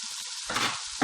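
Tomatoes dropped into a hot frying pan sizzle steadily, a close, soft hiss with a few small pops and a slight swell as they settle into the oil.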